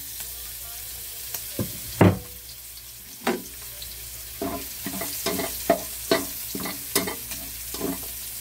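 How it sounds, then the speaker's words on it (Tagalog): Garlic sautéing in hot pork fat for a Filipino pakbet, with a steady sizzle punctuated by repeated close scraping stirs of a utensil against the pan. "mag-gisa na tayo ng bawang muna"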